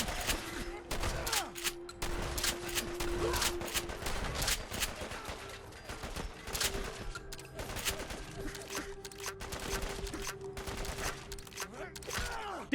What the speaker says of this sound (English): This is one of the best shotguns I have ever used in Fallout 4